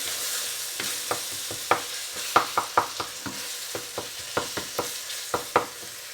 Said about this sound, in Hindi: अब इसको भूनेंगे मीडियम टू स्लो हीट पे, तकरीबन 5 मिनट के लिए हम इसको पकाएंगे